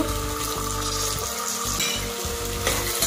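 Onions fry in a pan with a dense, continuous sizzle that stays loud and close throughout, and faint stirring sounds under it.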